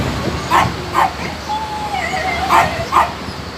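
A husky aboard a ship lets out several short yips and barks between a long, wavering whimper, close and fairly loud over low background rumble.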